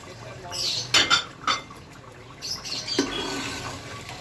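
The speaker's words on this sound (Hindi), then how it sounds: "अच्छी तरह भून चुका है, तेल ऊपर आ चुका है। इसमें मैं आलू डाल रही हूँ।" Potatoes tipped into a pot of frying masala that has released its oil, with a few close metallic clinks and scrapes of a spoon against the pot over a soft sizzle.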